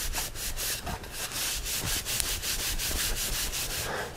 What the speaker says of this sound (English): The more buffing and polishing, the better.